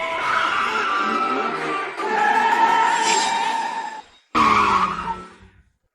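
Two sports cars pulling up, a loud sustained tire skid and squeal that breaks off briefly, then a second shorter screech that fades out.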